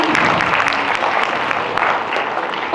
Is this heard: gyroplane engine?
no